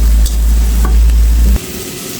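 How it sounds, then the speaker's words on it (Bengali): Broad bean seeds sautéing in oil with spices in a pan, a loud close sizzle and spoon scraping, heavy low rumble cutting off midway, with a few short knocks, no voices. "এই তেলের ভিতরে আমি সিমের বিচিগুলো দিয়ে সুন্দর করে কষিয়ে নেব।"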